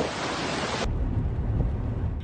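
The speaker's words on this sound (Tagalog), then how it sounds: "Ganito kalakas ang ulan at hangin na dala ng Bagyong Emong sa La Union sa nakalipas na magdamag." Heavy rain and strong wind from Typhoon Emong hit La Union in a dense, loud roar, with a harsher hiss at first that gives way to a deep, rumbling downpour.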